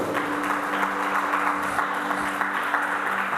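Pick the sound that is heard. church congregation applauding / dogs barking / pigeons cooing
church congregation applauding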